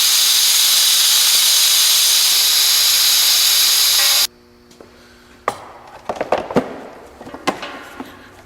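Compressed air rushes out of an air compressor valve in a loud, steady hiss for about four seconds, then cuts off abruptly, followed by scattered clunks and taps of handling parts.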